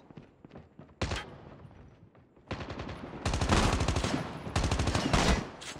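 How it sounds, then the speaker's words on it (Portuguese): Automatic gunfire in the mobile shooter game Call of Duty Mobile: a short burst, then longer rapid bursts of loud, close shots. "Deu tiro na cara do maluco, o maluco não morreu."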